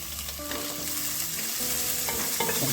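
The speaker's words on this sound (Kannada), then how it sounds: "ಈರುಳ್ಳಿ ಫ್ರೈ ಆಗಿದೆ" Chopped onion fries in a pan for an egg masala gravy, giving a steady close sizzle with the scrape and clatter of stirring heard throughout, and no talking.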